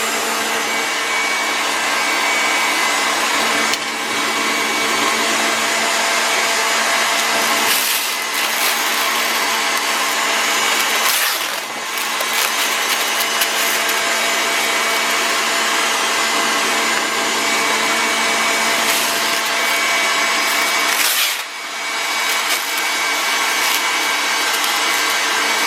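Electric mixer whipping egg whites to stiff peaks for macarons, a steady loud whirring drone running continuously with a few brief dips in pitch and intensity, no voices.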